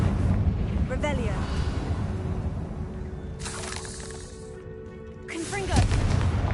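Confringo fire spell bursting in Hogwarts Legacy, a booming explosion that rumbles beneath game sounds, with sharp bright flares of magic at two separate moments and a voice speaking in between.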